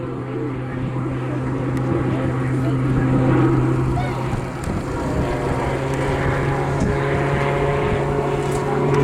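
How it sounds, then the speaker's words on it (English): A Tucano T1 turboprop trainer flies an airshow display, its propeller and engine making a continuous steady drone at a distance while a commentator speaks over it. "Put the aircraft on a knife edge and start to feed in the top rudder until the aircraft appears to pause in mid-air"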